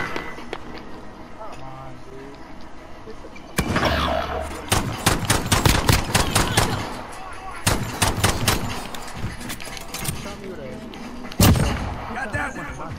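Rapid bursts of gunfire in the Warzone battle royale game, sharp shots in clusters and single cracks from about three seconds on, loud and close, with intermittent talk in between.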